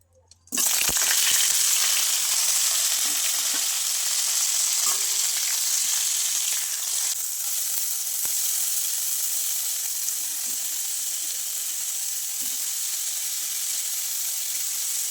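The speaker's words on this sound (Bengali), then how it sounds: "প্রথমে ডিম আর আলু ফুলকপিটাকে একটু ভেজে নেবো হালকা করে।" Eggs, boiled potato and cauliflower hit hot mustard oil in a pan: a loud sizzle bursts in after a brief quiet start, then settles into a sustained, even frying hiss with a few faint clicks; no talking.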